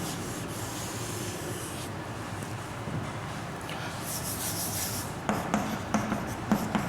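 Marker or chalk scratching a chemistry formula onto a classroom board, a quiet, steady rubbing with short squeaky strokes toward the end and no talking.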